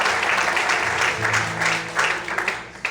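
Congregation in a church service applauding at night, a sustained crowd of clapping hands that swells and ebbs slightly over a few seconds, with faint voices mixed in underneath.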